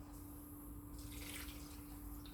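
About 720 grams of water pouring steadily into a pot for mushroom risotto, a continuous splashing stream that grows fuller partway through, over a low steady hum.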